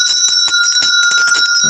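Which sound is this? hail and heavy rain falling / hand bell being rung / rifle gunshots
hand bell being rung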